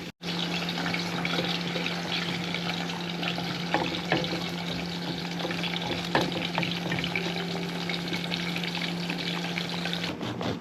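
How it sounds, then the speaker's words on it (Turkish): Tomato sauce cooking in a pan on a home stove, a continuous gentle sizzle and bubbling with a steady low hum underneath and occasional faint clinks, close by and without talk. "Arkadaşlar domates sosu hazırlıyorum."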